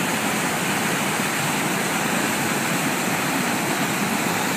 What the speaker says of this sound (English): if you walk in down this path, you'll find this waterfall